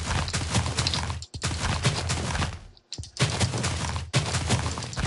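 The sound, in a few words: TNT cannon explosions in a video game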